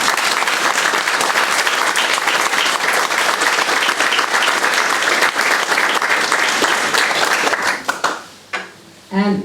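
Loud, dense applause from a crowd at the reopening of a natural history museum, honouring a retired museum worker, sustained for about eight seconds before breaking off into a few scattered claps and a voice.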